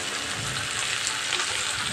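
A ground paste of poppy seed, peanut, green chilli and garlic fries with tomato in a pan, giving a continuous hissing sizzle, close and even, with no voices.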